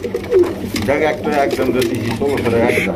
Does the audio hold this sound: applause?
no